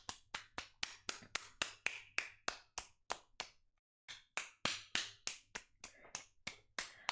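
One person claps for themselves in a steady run of sharp, close handclaps, about three per second, with a short gap midway before the rhythm resumes.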